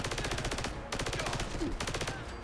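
Rapid automatic bursts from the Laser RCW energy weapon in Fallout 4, a dense stuttering stream of zapping shots that pauses briefly and then resumes, loud and up close.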